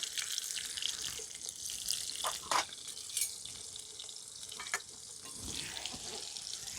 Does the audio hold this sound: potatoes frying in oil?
yes